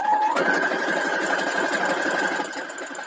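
A sewing machine runs fast and steady stitching a quilt block seam, a close continuous whirring motor with rapid needle chatter that eases slightly near the end.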